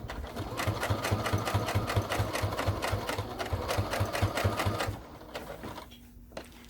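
A sewing machine runs a steady, rapid run of stitches through armchair caddy fabric for about five seconds, then stops, leaving a few faint clicks.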